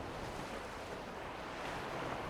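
Wind blowing at the coast on a blustery day, a steady broadband rushing roar buffeting close to the microphone, faint and without voices.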